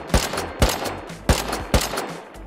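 Four sharp gunshots crack out in an uneven rhythm during a survival raiding video game, each a close, punchy report with a short decay.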